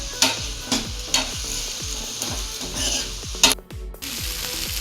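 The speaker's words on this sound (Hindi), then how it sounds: "तो अब इसे पका लेते हैं जब तक कि नरम नहीं हो जाते हमारे टमाटर प्याज।" Tomatoes and onions sizzle and fry in a pan for an aloo methi paratha masala, with steady crackling and repeated stirring scrapes and clinks, alone and fairly close.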